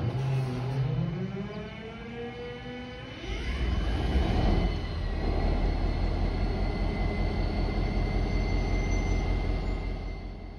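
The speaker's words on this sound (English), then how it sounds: "the same engineer that operated train 117 last night hops into the cab and starts up the engine" An MBTA locomotive starts up in a layover yard, a low cranking whine rising in pitch before the diesel catches and settles into a loud, steady rumbling idle.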